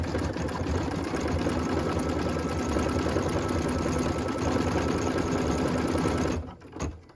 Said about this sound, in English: which is stitching the heart detail in the center of that stamp detail.